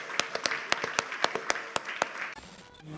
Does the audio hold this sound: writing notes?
no